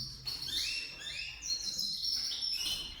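A pet canary chirps in quick, bright, high tweets, close and fairly soft, with repeated calls and trills and no talking.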